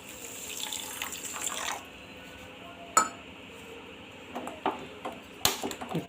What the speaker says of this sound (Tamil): அதுக்கப்புறம் அது மூழ்கிற அளவுக்கு தண்ணி சேர்த்துக்கலாங்க.